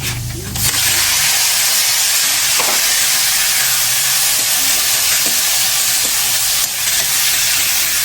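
Chopped onion dropped into a hot pan, a loud, close, continuous frying sizzle that starts with a brief clatter and then hisses steadily.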